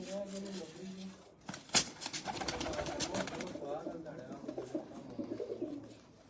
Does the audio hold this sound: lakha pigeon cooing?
yes